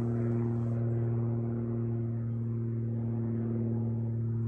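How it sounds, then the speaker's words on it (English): A small propeller-driven flying go-kart engine drones overhead against the wind, a steady buzzing rumble with a slightly uneven, missing note that holds fairly loud throughout without speech. "He's trying to fly against the wind in that little old go-kart he's got with a propeller on it."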